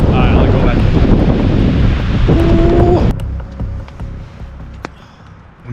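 Strong gusting wind buffets the microphone while hiking in bad weather in Georgia and Azerbaijan, loud and roaring for about three seconds before easing to a quieter rustle.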